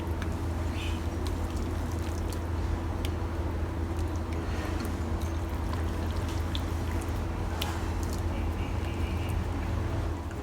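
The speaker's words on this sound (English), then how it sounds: "Pour some of this beautiful stock into this vermicelli." Stock is poured over vermicelli rice noodles while assembling Singapore mee siam, a steady, continuous splashing stream that runs evenly throughout.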